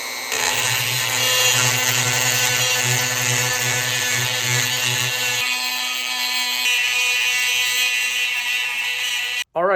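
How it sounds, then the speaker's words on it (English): A Dremel rotary tool smoothing the inside of a knife handle forged from an old horseshoe, a loud steady high-pitched whine with grinding buzz, constant and close throughout. "Now I'm going to take a Dremel and I'm going to go along in here inside the handle where the belt grinder can't reach"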